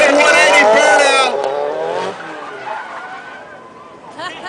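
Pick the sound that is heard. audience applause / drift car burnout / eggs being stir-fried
drift car burnout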